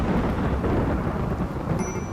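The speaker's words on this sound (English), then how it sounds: "We got a thunderstorm." Thunderstorm in the video game Rimworld: a dense, loud, continuous rumble of thunder mixed with heavy rain, with no talk.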